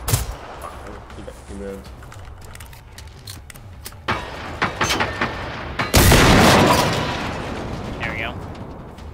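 Rifle shots fired in the video game Generation Zero: several sharp, loud reports scattered through the clip, with one heavy blast near the end trailing into a long decay, mixed with game ambience while a player speaks briefly.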